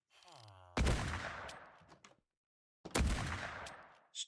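A Baker rifle in a Minecraft gun mod goes off twice, each shot a sharp loud blast trailing into a short decay, separated by a pause of about two seconds.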